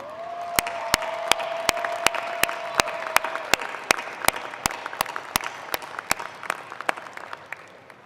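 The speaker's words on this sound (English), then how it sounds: "Take a look up into the stands and find those that are here for you and clap and cheer for them" A commencement audience at a 2021 College of Business ceremony applauds steadily in a dense wash of clapping, with sharp individual claps standing out close by and faint crowd cheering underneath.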